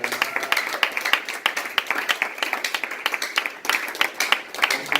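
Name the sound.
audience clapping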